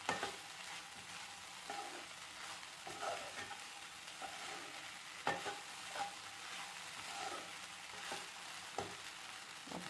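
Sabudana khichdi sautéing in a pan, a faint steady crackle with repeated light spatula scrapes and taps spread across the stretch, no speech.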